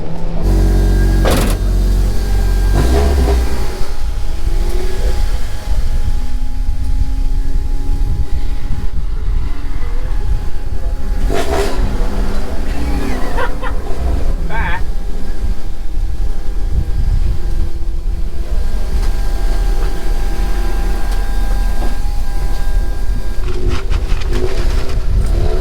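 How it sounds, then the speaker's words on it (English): Race car engines run at the Willowbank track during a 300 race, producing a constant loud rumble with occasional sharper bursts and whooshes of passing noise. "Start your engines and move out"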